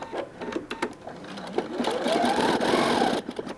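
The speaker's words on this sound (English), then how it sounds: "I wanna kind of keep that flat down against the lace as I turn this corner with my zigzag stitching" Sewing machine zigzag stitching around a lace insertion: a steady close-up motor hum with rapid rhythmic needle chatter that builds into a continuous run, with pauses for turning corners.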